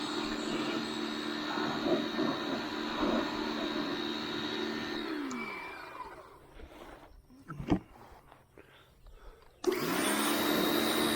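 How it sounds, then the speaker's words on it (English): Power washer cleaning dirt from the stripped interior of a 1981 Camaro Z28 gives a steady, loud motor whine that cuts off midway, leaving a few faint knocks, then starts up again abruptly. "get the power washer out. I'm just going to wash all this dirt and stuff off of it."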